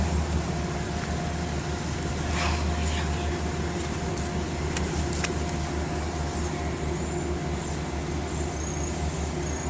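A P32 diesel locomotive rolls past at Croton Harmon, a dense, continuous engine and wheel rumble at steady volume, with a few sharp clanks and clicks cutting through near the start and middle.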